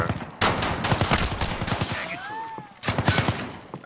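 Rapid bursts of gunfire in a survival-mode match of the video game Call of Duty: Modern Warfare (2019), sharp close shots crackling in quick clusters with brief gaps and a short whistling tone in between.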